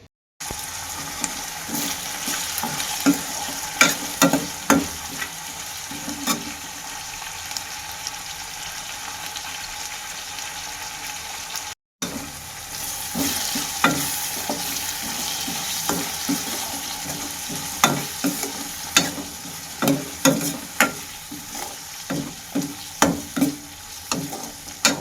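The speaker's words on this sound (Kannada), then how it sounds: "ಅವಲಕ್ಕಿ ಒಗ್ಗರಣೆಗೆ ಹಾಕುವ" Flattened rice (poha) sizzles steadily as it is stirred in a hot oil tempering, with frequent sharp scraping clicks from the spoon against the pan, loud and close, briefly cutting out midway.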